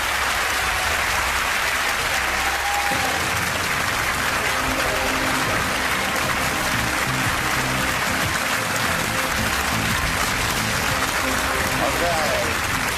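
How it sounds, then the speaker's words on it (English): A television game show studio audience cheers and applauds in a steady, loud wash of clapping and crowd noise that lasts throughout without pause. "We're going to give you a good cheer."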